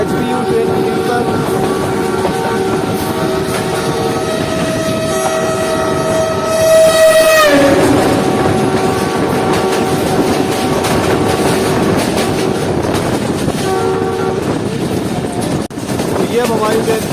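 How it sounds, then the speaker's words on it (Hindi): The Ravi Express passenger train rolls toward the Ravi rail bridge with a loud, continuous rumble and rattle of carriages, while a long tonal horn-like wail rises and then cuts off midway. "ये अब हमारी ट्रेन पहुंच रही है दरियाई रावी के ऊपर बने हुए रावी रेल ब्रिज पर"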